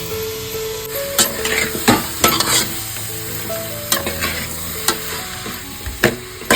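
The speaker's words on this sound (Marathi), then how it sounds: "व्यवस्थित सर्व गोष्टी परतावून घ्यायच्या आहेत" Mixed vegetables and soybeans sauté in a hot pan, sizzling continuously while a spatula scrapes and knocks against the metal in irregular strokes, close and clear with no talking.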